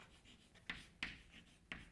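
Chalk or marker strokes on a board during a physics lecture on linear momentum, three short sharp scratches spaced irregularly, faint and close with no talk.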